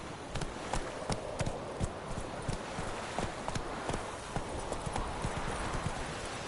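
Roach, the horse in The Witcher 3, gallops with rapid, rhythmic clip-clop hoofbeats sounding steadily and fairly close throughout.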